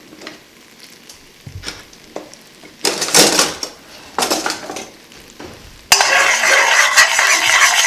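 A pot of beef and lamb stew shifted around on the stove and stirred with a spoon: scattered clanks and scrapes, then louder bursts of metal scraping, ending in a steady, bright hiss, close and loud, with no talking.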